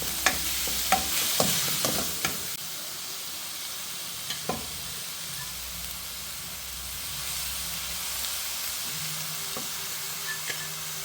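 Cooked dal stir-fried with coconut and garlic in a pan for a thoron, a continuous near sizzle and hiss with scattered clinks and scrapes of a spatula stirring.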